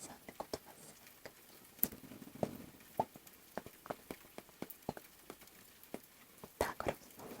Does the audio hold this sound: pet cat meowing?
no